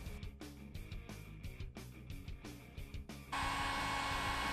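A heat gun warms Ergodyne Squids wrap tape, a steady blowing hiss with music-like rhythmic content early, then a loud continuous broadband roar of the heater taking over in the last second and a half, close and unbroken.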